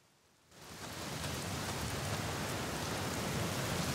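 Heavy rain starts suddenly after a near-silent moment in the video game The Black Mirror, then settles into a dense, loud, steady hiss of falling water with no voices.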